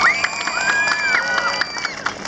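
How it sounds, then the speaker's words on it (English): Children at a Mesa park opening ceremony cheer and shout in a lively crowd, with scattered clapping beneath high excited voices, loud and continuous throughout. "Let's give them a round of applause, boys and girls."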